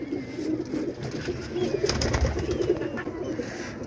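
Several pigeons coo in low, throaty repeated phrases, close by under a net set up over a rooftop, with a faint rustle and background hum throughout.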